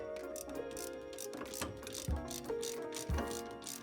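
A ratchet clicks in quick bursts while loosening the sway bar end link on a GMC 1500 truck's suspension, with a few heavier clunks of metal between the runs of close, crisp ticking.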